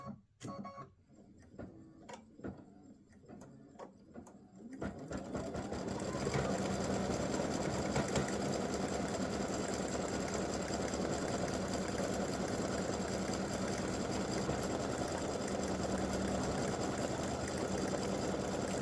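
An embroidery machine stitches a free-standing lace bow in fine, narrow satin stitch: after a few seconds of scattered clicks and taps it starts a loud, steady, continuous mechanical whir that runs unbroken to the end, close by, with no talk.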